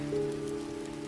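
Steady rain falls on a surface during a dark night at an old mansion, a continuous even wash of drops filling the whole moment, fairly loud and without any voices.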